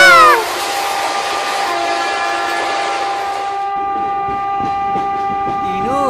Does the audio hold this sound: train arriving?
yes